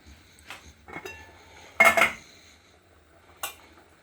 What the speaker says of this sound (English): I'm just gonna add my rice now to my peas and leave it to cook